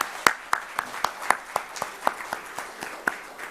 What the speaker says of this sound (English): So why don't we give all the presenters the biggest round of applause